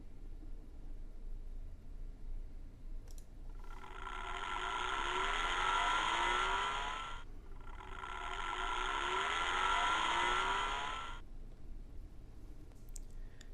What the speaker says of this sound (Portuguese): até mesmo extrair o som gerado por esse motor